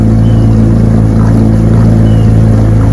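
A 1965 Johnson 9.5 HP outboard motor runs steadily on a bayou, a loud, close, continuous droning hum with no pauses and no voices.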